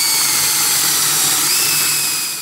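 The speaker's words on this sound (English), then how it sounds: "I'm gonna start off with a 5/16 inch drill bit. I think that's enough to drill down through there and open that up." A power drill with a 5/16 inch bit bores into a star fangled nut inside a bicycle fork steerer tube, a loud continuous whine with a steady tone, close and alone, easing off at the end.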